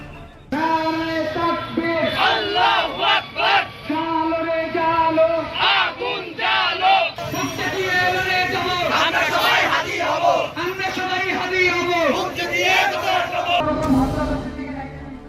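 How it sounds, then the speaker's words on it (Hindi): A large crowd outside the Indian embassy in Bangladesh shouts and chants in rhythmic, loud unison, a sustained uproar of massed voices with cheering surges and no pause. "दूतावास के बाहर जमकर हंगामा हो रहा है।"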